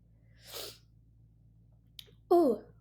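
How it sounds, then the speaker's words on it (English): A single sharp, loud sneeze bursts out close by after a soft sharp inhale earlier on, then quiet. A brief click comes just before the sneeze. "I think I have to sneeze."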